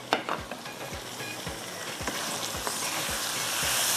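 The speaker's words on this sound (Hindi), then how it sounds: "इसको आपने इस तरह से मिक्स करना है, थोड़ा सा इसको भून लीजिएगा।" A salted biryani mixture fries in a pot with a constant hissing sizzle, while a spoon stirs it in regular low scraping strokes roughly every half second.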